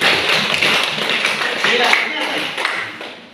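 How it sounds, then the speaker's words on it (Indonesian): A group claps together at a school practical exam during a pantomime performance, a steady, fairly loud patter of hands close by, with a brief spoken word at the start. "Iya, tepuk tangan dulu."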